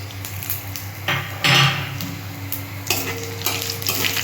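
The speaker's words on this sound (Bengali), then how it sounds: "এখানে জিরে তেজপাতা শুকনো লঙ্কার গোটা গরম মশলা আছে আমি দিয়ে দিলাম" Cumin, bay leaf, dried chilli and whole garam masala hit hot oil with a loud burst of sizzling, then keep crackling while a utensil stirs and scrapes the pan, with no voices.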